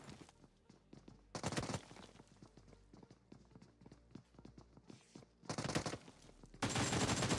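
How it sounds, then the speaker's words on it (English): A gas explosion bursts out during a tournament match of an online shooter, following a stretch of rapid gunfire crackle; loud broadband blasts hit twice, the last one long and sustained at full volume. "Nice gas explosion there."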